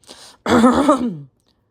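A single throat clearing, close and fairly loud, a brief rough rasp following a short lead-in breath.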